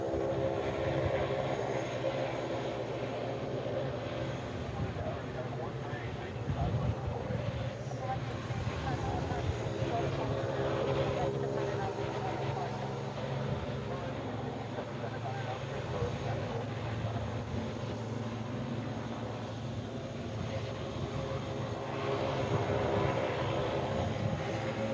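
Aircraft noise at a Hawaii airfield at night as an Aloha Air Cargo plane arrives, a steady broad engine roar and rumble sustained throughout at moderate distance, with speech over it.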